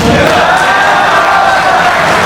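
Steady, dense crowd noise at a Hindi poetry gathering (kavi sammelan) fills the whole stretch, a loud continuous roar of many people clapping, with no gaps.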